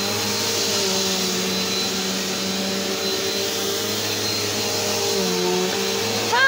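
A vacuum cleaner running on carpet upstairs drones loud and steady nearby, its motor pitch dipping slightly midway and rising again at the end, with nobody talking.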